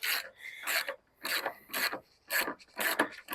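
A ratchet works three 10mm bolts loose from a headlight housing, giving repeated rasping, clicking strokes in short bursts with brief pauses between them, close and fairly loud.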